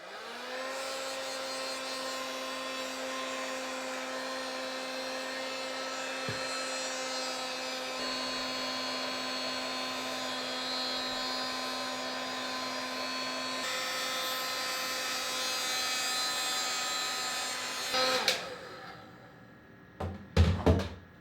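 A hair dryer of up to 1400 watts, powered by a Bluetti off-grid battery system in a cabin, whines in a steady, loud, close drone for about eighteen seconds, then is switched off and followed by a few handling thumps.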